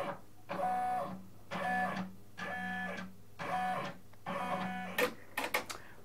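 An embroidery machine traces the outline of a left chest logo before stitching, with its motors whirring in a steady pattern of about five near, humming passes, each followed by a brief pause, then a few sharp clicks at the end.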